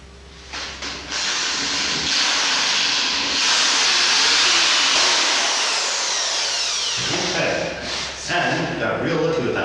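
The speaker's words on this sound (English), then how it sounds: "I can start drilling these holes" A drill bores holes in an arcade cabinet with a loud, sustained whirring hiss that swells and holds for several seconds before winding down, and a voice is heard briefly toward the end.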